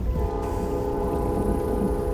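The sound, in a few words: train passing with horn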